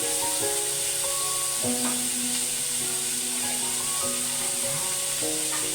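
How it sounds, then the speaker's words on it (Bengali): Mushrooms frying in hot oil for Bengali chilli mushroom, a steady loud sizzle and hiss throughout, with light clinks from a utensil. "এই দেখুন আমার এটা তেল ভাজা ভাজা হয়ে গেছে।"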